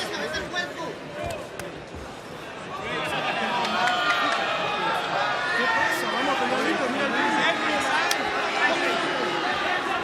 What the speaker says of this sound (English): A few boos from the crowd.